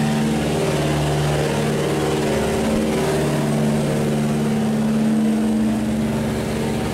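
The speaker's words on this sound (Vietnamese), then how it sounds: "Wow, nước nó đẩy kìa. Quá khủng, con máy này mạnh thiệt." A powerful barge engine pushes water through a sluice gate, giving a loud, steady low drone with a constant hum and a churning wash underneath, unbroken and alone.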